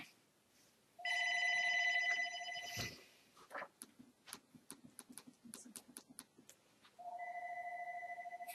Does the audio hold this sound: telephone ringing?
yes